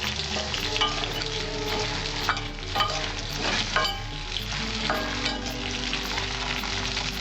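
Vegetables for Bengali shukto, including eggplant, fry one batch at a time in hot oil in a pan, giving a steady close sizzle broken by the clinks and scrapes of stirring, with no talking.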